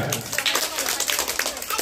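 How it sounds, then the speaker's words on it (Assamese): Applause for a third-prize winner at an annual sports prize-giving ceremony, a dense crowd clapping steadily and fairly loud throughout, with some voices mixed in. "আকৌ হাত চাপৰি দিয়া"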